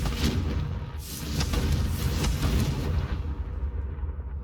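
A Confringo fire spell blasts in Hogwarts Legacy as a loud, rumbling boom with a sustained roar that fades toward the end.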